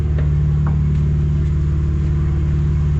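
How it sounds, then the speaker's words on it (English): A BMW G82 M4 engine with full exhaust and downpipe idles loudly up close with a deep, steady rumble, rising in light revs without any dramatic acceleration. "Light revs."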